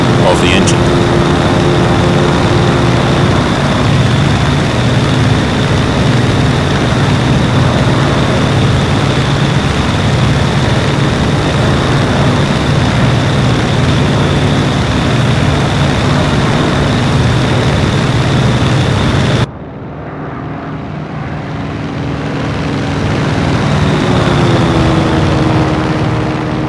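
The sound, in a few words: aircraft engine in flight, IL-2 video game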